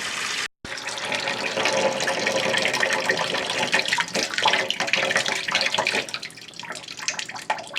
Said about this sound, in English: we're going to leave the water run until it absolutely runs out